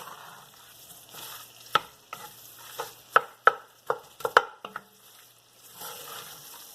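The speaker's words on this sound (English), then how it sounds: "So we're just going to stir that in." Scrambled tofu frying in a pan as turmeric is stirred in, a soft steady sizzle broken by several sharp scrapes and knocks of the utensil against the pan, close and without speech.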